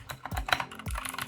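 Close, crisp keystrokes typed on a Kemove Shadow 61 mechanical keyboard, a quick irregular run of clicky taps with a few heavier thocks, no voices.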